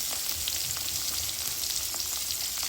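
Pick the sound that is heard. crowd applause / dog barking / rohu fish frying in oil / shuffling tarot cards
rohu fish frying in oil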